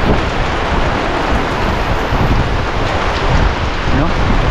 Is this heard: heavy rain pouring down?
yes